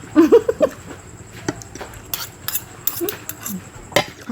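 A metal spoon scrapes and clinks against a plate of rice mixed with stir-fried basil chicken, several short close taps and scrapes spread unevenly, with brief vocal sounds near the start.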